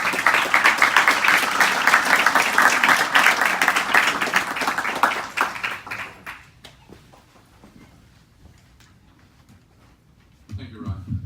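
An audience at a United Way and Los Angeles schools partnership event applauds a school board member, dense clapping for about six seconds before fading to quiet, then a voice resumes at the end.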